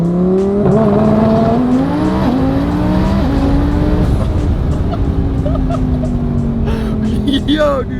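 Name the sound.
twin turbo Lamborghini Huracan Evo accelerating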